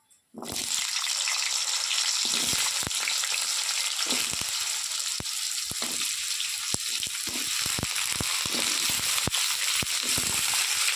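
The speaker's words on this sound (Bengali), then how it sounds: "এবার আমি আলুগুলো দিয়ে কষে নেবো" Potatoes frying in hot oil in a pan with dried red chillies and five-spice, a loud continuous sizzle with occasional stirring scrapes, close and steady throughout.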